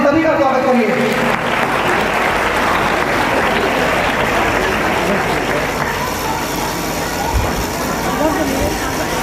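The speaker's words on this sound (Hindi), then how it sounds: "तो जोरदार तालियों से सभी का स्वागत करिए।" Sustained applause from a large audience at a school Foundation Day and Grandparents Day celebration welcoming guests, a dense steady roar of clapping filling the whole span, with a voice briefly audible at the start.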